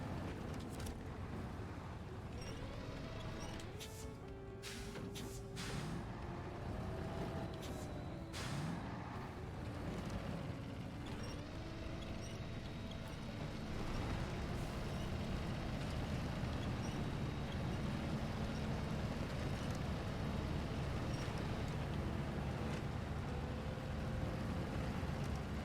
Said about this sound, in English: I'm going to run the engine on the Collie Pug one more time.